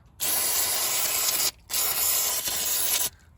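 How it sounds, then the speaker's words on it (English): Compressed air blasts dirt and grime off the engine parts of a 400K-mile 1.8T B5 Passat: two long, loud, close hissing bursts with a short gap between them. "I just want to blast these landings clean"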